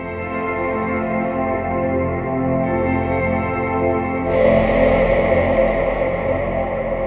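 Audio feedback loop routed through the aux sends of a Finegear MODMIX experimental performance mixer, a loud, dense sustained drone of stacked tones that suddenly swells brighter and harsher partway through and holds steady to the end.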